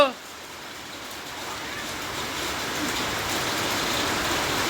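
Steady outdoor rain falling while a woman shampoos her hair in it, a continuous soft hiss of drops growing slightly louder, with no clear talk over it.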